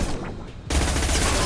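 Gunfire from the video game Mass Effect 2 during a combat mission: a dense, loud burst of rapid shots that cuts in sharply partway through and continues steadily to the end, after a quieter stretch of game ambience.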